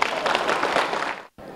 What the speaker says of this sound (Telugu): ఆ అమ్మాయికి చప్పట్లు కొట్టండి